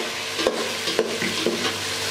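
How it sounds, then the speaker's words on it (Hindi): Chicken for white chicken biryani fries in a pan, a constant close sizzle punctuated by three rhythmic spatula scrapes and knocks about half a second apart, with no talking. "अब मैं चिकन को इतना फ्राई कर लूँगी कि जो इसका कलर है वो बदल जाए।"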